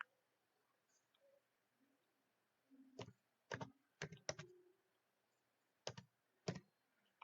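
Sparse keystrokes tap out a six-digit OTP code on a computer keyboard, a handful of distinct clicks in small clusters against a quiet room background.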